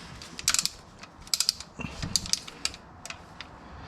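Quick bursts of ratchet clicks as transmission pan bolts are tightened by hand toward a torque spec of about 6 foot-pounds, several short runs of clicking with pauses between, close and fairly quiet.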